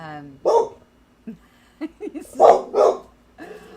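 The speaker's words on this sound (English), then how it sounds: "my dog is so worked up" A pet dog barks excitedly indoors, a handful of sharp, close barks in quick irregular bursts between quieter gaps.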